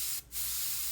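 An airbrush sprays paint, fed by a compressor, in a steady close hiss that cuts out for a split second and then resumes.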